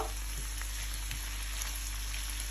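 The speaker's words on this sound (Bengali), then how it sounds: "ব্রকলি দেওয়ার পরেও আমি এরকম একটু নেড়ে চেড়ে ওয়ান মিনিট ওয়েট করব" Broccoli and long beans stir-frying in a pan give a steady, even sizzle throughout, close and moderately loud with faint stirring knocks and no voices.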